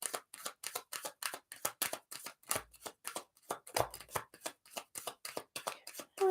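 Tarot cards being shuffled by hand, a rapid series of crisp riffling bursts and soft taps in a quiet room, repeating irregularly for several seconds with no voices.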